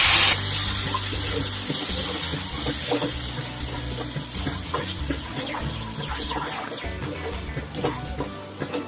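Water is poured into sugar in a pan to make syrup for kesari bath, giving a loud hissing, spraying pour followed by steady sizzling and bubbling that tapers off.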